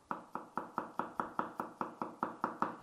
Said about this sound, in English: Smash the garlic, then we roughly chop the garlic.